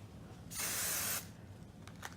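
Hairspray hisses from a can onto hair in one steady, soft burst lasting under a second, followed by faint quiet handling noises.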